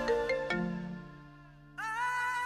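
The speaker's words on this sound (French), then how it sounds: "ton téléphone sonne" Mobile phone ringtone playing a short chiming melody that stops, then resumes as a sustained bright electronic tone, clear and alone.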